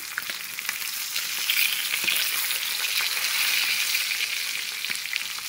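Pieces of fish frying in hot oil in a village kitchen, a steady crackling sizzle with occasional sharp pops and spits, close and moderately quiet, no talking.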